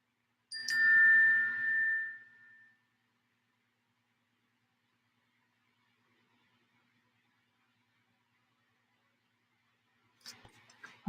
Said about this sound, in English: My phone's telling me to breathe.